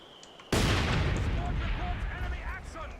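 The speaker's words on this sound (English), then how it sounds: "And they've got a mortar, of course." In the video game Company of Heroes 2, a mortar round lands as one sudden, loud, close blast that booms out and then decays into a long rumbling tail.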